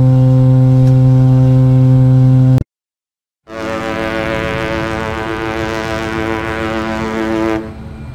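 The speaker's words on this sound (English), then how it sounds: "Freighter ship." A freighter ship sounds a loud, sustained low horn blast rich in harmonics, then falls silent for a moment before a steady, droning engine rumble follows.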